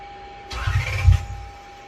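Lexus LS400 engine cranking and catching after a fuel pump replacement: a short, loud burst of starter grind and low engine rumble that briefly flares, then settles back toward a steady hum.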